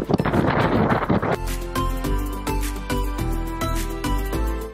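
Strong gusts batter the microphone on a lakeside stairway trail at Lake Garda during a storm, a loud broadband roar at first that gives way to steadier buffeting with repeated thumps.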